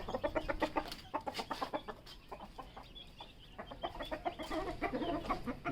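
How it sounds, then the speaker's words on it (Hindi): Chickens and young chicks cluck in rapid, dense bursts while pecking at homemade feed in a backyard flock, the calls close and continuous with a brief quieter lull midway. "ये बच्चे कुछ फीड खा रहे हैं"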